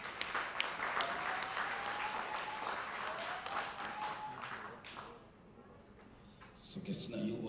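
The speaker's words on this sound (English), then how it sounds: "Give a clap of hands to God for that." Wedding guests at a Ghanaian traditional ceremony clap their hands in sustained, dense applause that fills most of the stretch, with voices mixed in, then thins toward the end.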